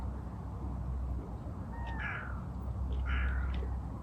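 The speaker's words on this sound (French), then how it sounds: "Voilà, on a un petit chat ici" A small cat gives two short meows, faint and a little distant, over a steady background hiss in a quiet room during a gentle yoga session.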